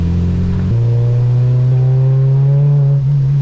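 Engine drone of a 400hp Acura RSX driving through a hurricane, loud and steady from inside the car, with a gear change early on and then a sustained, slowly rising tone.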